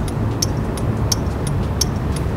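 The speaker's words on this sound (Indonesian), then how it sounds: "lampu sennya ini unik, dia punya suara flasher yang terdengar lumayan keras" Sharp, evenly spaced clicks from a SYM Jet 14 scooter's fairly loud turn-signal flasher tick about three times a second over a steady low engine hum.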